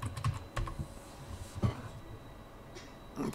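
A password is typed on a computer keyboard to log into a Hikvision DVR, giving a short burst of soft, close key clicks in an irregular rhythm with pauses between groups.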